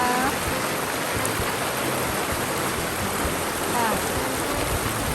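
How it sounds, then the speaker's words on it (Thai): A forest stream flowing out of Lake Geneva in a Swiss woodland rushes steadily and loudly, a continuous broad wash of churning water with no break from start to finish. "สายน้ำเป็นลำธารที่ไหลมาจาก ทะเลสาบของเชนีวานะคะ"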